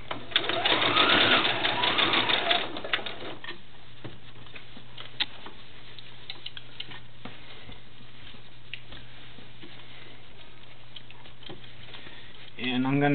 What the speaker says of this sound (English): Needle in the down position, do a couple stitches, a couple of back stitches,